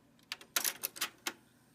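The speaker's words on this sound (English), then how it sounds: "we do still have the mechanical issue of the clicking noise here" A Technics cassette deck mechanism with a mechanical fault gives a short run of sharp, close clicks and ticks, irregularly spaced in a quick cluster over near silence.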